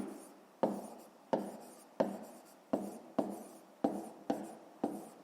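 Pen or pencil writing out a fifth-grade math solution on paper, a series of about eight short strokes in a steady rhythm, close and quiet with no voices.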